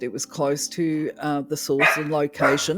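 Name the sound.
dog barking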